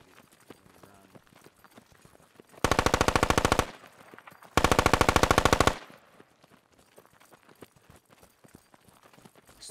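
Two sustained bursts of automatic gunfire in the military shooter game Squad, each about a second long with rapid even shots, loud and close, separated by a short pause over faint background noise.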